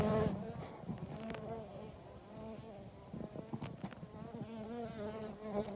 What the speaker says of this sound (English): watch this bee guarding the entrance to the hive